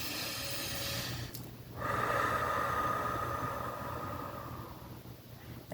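Two long breaths, a slow inhale followed by a steady exhale, in a quiet room during a guided deep breathing exercise, close and fairly loud with no talking.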